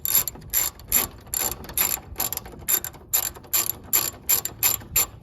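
A ratchet backs out an upper radiator fan bolt on a 2013 Chevy Tahoe, giving quick bursts of sharp metallic clicking in a steady rhythm. It is close, fairly loud and heard alone.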